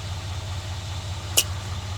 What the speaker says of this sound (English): sorry if you can hear the truck in the background